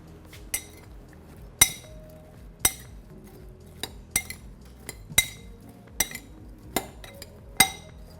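A spoon clinking against a bowl while seasoned vegetables are mixed for a sheet pan dinner, about ten sharp metallic taps at an uneven rhythm, close and clear, with no talking.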